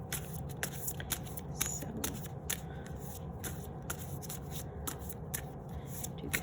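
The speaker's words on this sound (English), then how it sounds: "shuffle the Rider-Waite Tarot" Rider-Waite tarot cards shuffled by hand, a steady papery riffle with repeated crisp flicks and slaps, close and continuous, with no talk.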